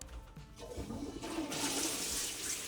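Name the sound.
public toilet flushing in Japan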